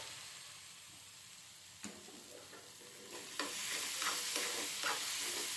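Paneer cubes fry and get stirred in a pan, a soft continuous sizzle broken by a sharp scrape, then louder repeated stirring strokes and rising hiss in the second half, close and fairly quiet with no voices.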